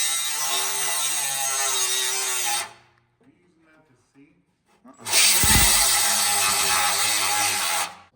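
Thin cutting disc slicing through aluminum for a Polaris RZR tune-up in a shop, two loud sustained bursts of harsh, bright grinding separated by a short near-silent pause with faint handling noise.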